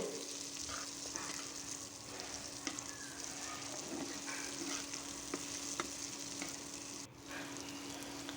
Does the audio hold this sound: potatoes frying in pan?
yes